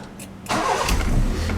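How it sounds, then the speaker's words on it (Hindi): A Honda car engine cranks and catches to a loud start after a quiet moment, settling into a steady running rumble. "और करते हैं जी गाड़ी को दोबारा से स्टार्ट।"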